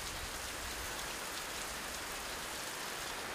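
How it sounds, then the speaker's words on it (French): Heavy rain pouring in a forest village, a dense continuous hiss that stays loud and unbroken throughout, with no voices. "Il pleut très fort et ça s'arrête tout de suite."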